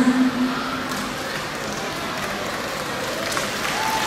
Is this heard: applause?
yes